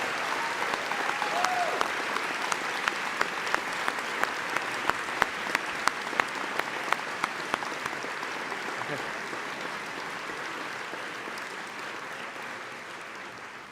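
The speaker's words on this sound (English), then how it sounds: "Let's give them a round of applause." Audience applause at a graduation ceremony, a dense sustained wash of clapping with a few sharper claps standing out, steady for most of the stretch and easing slightly toward the end.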